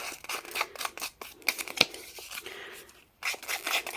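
Scissor edges scraping along paper to distress it for a vintage lace folio, a run of short dry rasping strokes, close and fairly faint, with a brief pause near the end.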